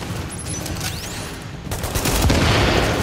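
Enemy turret gunfire in the video game Tom Clancy's The Division, a dense fusillade of shots and booms that swells louder in the second half, with a rising whistle-like sweep early on.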